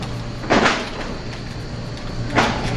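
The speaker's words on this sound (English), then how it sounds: "The kicking noises grow more intense" Two dull thumping bangs, like kicks against a door, from inside a haunted grocery store freezer, spaced about two seconds apart over a steady mechanical hum.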